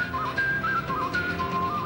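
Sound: loud whistling

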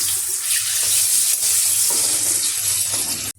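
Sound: dhoka (lentil cakes) frying in hot mustard oil

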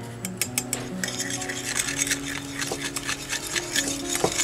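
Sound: whisking baking ingredients together in a bowl

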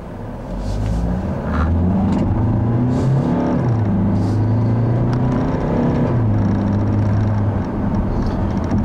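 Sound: 2015 Chevrolet Cruze turbo diesel car setting off

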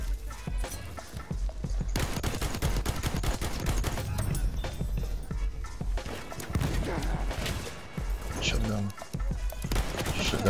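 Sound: shotgun fire in the video game Battlefield 1

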